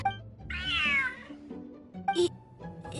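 In the video game Genshin Impact, a big cat lets out a loud, drawn-out meow, followed by shorter chirping sounds and soft background tones.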